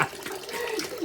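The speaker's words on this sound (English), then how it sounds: "The tea is taking a leak." Tea runs and splashes out of a leaking dispenser at a fast-food restaurant in a brief, continuous gush of pouring liquid, close and fairly loud.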